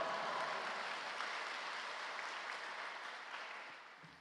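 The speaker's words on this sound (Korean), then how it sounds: "큰 박수로 맞이해 주시기 바랍니다" A church congregation at an early-morning service welcomes a missionary pastor to the pulpit with applause: a soft, distant, even wash of clapping that slowly fades.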